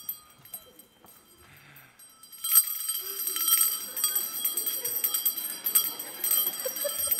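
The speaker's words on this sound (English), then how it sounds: "Ooh, bells." Small bells ring in a bright, jingling cluster after a quiet opening, continuing in shimmering, irregular strikes until the end, on stage during a high school musical.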